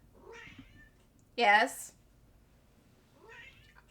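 Cat in a video game gives one loud, close meow, with faint softer meows before and after, and a short spoken word in between.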